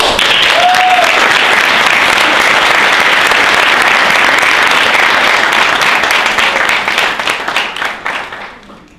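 Loud, dense audience applause in a hall during a sign-language presentation, sustained clapping from many hands that holds steady for most of the clip before fading out at the end.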